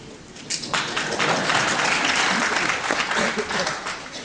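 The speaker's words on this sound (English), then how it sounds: "I'll do what I can to get the applause on" Audience applause at a lecture on world civilisation, a dense steady wash of clapping that swells after half a second and holds loud throughout, with some voices mixed in.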